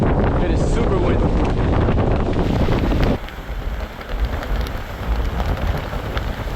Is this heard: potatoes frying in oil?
no